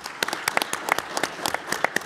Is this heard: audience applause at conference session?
yes